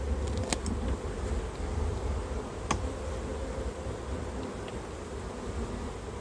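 Honey bees buzzing at an open hive during queen work, a dense continuous drone of many insects close by, with a few faint clicks and knocks of hive handling.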